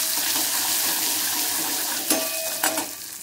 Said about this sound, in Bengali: নুন আর হলুদ দিয়ে ভালো করে একটু নাড়াচাড়া করে নেব।